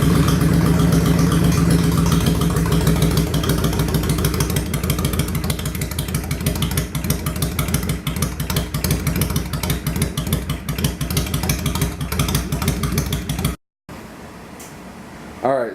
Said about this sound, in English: start your motorcycle and go ahead and get it all nice and warm